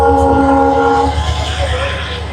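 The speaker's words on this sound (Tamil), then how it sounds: "ஆக்சுவலாக ட்ரெயின் போக போகுது" A train passing near Pamban bridge, with a loud held horn blast at the start that gives way to a close, heavy rumble of rolling wheels.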